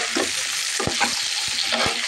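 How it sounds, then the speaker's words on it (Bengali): Potatoes frying in a pan for a duck egg and potato curry, a steady close sizzle broken by several sharp scraping stirs of the spatula, with no voices. "এখন আলুটা একটু ভেজে নেব আমি"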